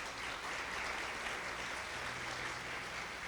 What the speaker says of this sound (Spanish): Denle ese aplauso a ese Dios esta mañana